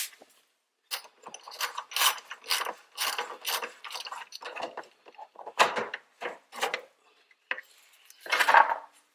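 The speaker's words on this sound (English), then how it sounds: "I'm gonna have more leverage to remove this bolt. That's an 18mm. I have a wrench in here." A wrench ratcheting an 18mm bolt on the front lower control arm of a 2013 Audi A4, close rapid clicking bursts in short uneven runs with pauses between them, no talking.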